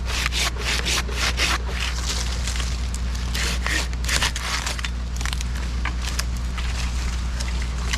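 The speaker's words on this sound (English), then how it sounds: "I'm just going to use my handsaw that's almost out of my sheath" Handsaw cutting a cottonwood branch high up in a tall tree, a steady run of rough back-and-forth rasping strokes over a constant low hum, close and fairly loud with no talking.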